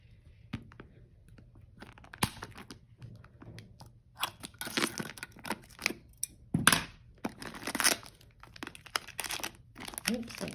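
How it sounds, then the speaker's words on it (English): Packing tape on a jewelry jar box is cut and pulled open in a series of quiet crinkling, tearing and rustling bursts up close, with someone talking softly in between. "let's cut that tape"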